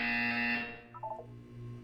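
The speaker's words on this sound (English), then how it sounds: "When you hear the buzzer, look up at the ceiling." A buzzer from the Portal 2 video game sounds once, loud and harmonic-rich for about half a second, then cuts off. A few short electronic blips follow over a low background hum.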